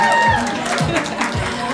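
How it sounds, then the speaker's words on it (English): An audience at an interior design showroom event gives a short burst of cheering and clapping. Voices are loud over the top of it. "Can we get a little bit of a round of applause for some more energy?"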